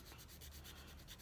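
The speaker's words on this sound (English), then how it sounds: "while I'm going up and down with the sanding, I'm actually moving it around as well" Faint, rhythmic back-and-forth rubbing of sandpaper on a small part of an Italeri 1:9 scale Norton motorcycle model kit, with regular strokes close to the microphone.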